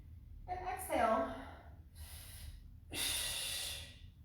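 Audible exhales during a Pilates-style core exercise, several breathy bursts with a long, forceful breath out near the end, close to the mic with faint background.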